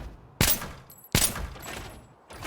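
Cheap guns fired in the video game Arena Breakout: two sharp, loud shots about a second apart, each with a short ringing tail, and a third starting at the end.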